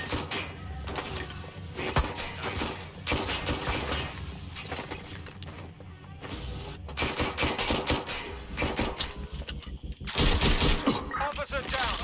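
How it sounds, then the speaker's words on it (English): Rapid bursts of automatic gunfire in a police shootout in Watch Dogs Legion, loud and dense with sharp repeated cracks and brief lulls, running throughout with no talking. "Shots fired!"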